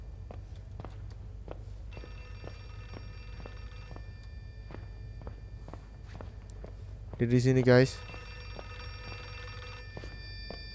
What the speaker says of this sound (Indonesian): Telepon, angkat.